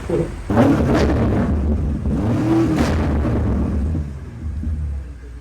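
A car engine rumbles and revs nearby, with sharp pops and bangs bursting from the exhaust between revs.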